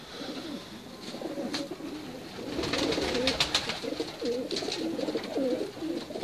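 Teddy, Ferozpuri and Cheena breed pigeons on a rooftop coo in soft, repeated rolling phrases, fairly close and moderate in volume, over a faint hiss of outdoor background.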